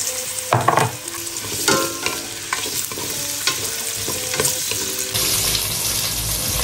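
Garlic sizzles loudly in a hot pan as the base for Filipino chicken tinola. Repeated stirring scrapes and clinks sit over the crackle, and the frying swells into a denser, steady hiss in the final moments.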